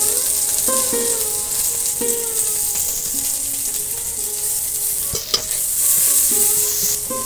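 Chopped onion hits a pan of fried okra and sizzles steadily, while a utensil stirs and scrapes in repeated strokes with a few sharp clinks, close up and with no talk.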